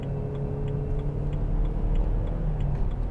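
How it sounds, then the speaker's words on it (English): A 2008 BMW 320i M Sport coupe with a 2.0-litre engine drones steadily from inside the cabin while being driven, with a low continuous rumble and faint regular ticking and no voices. "I'll just give it some gas here."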